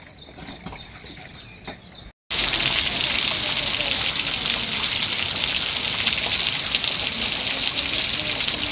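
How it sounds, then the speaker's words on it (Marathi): Rain starts in an outdoor family setting: birds chirp briefly, then after a short gap a loud, dense, steady hiss of rainfall on surfaces fills the scene close by. "हा बघा येतोय पाऊस"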